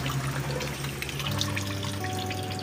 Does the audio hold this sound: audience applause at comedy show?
no